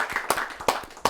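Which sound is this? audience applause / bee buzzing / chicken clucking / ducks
audience applause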